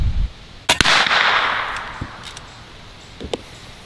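An air rifle fires a .22 Magnum bullet through a chronograph, one sharp, loud crack followed by a short, fading rush and a few scattered small clicks and taps.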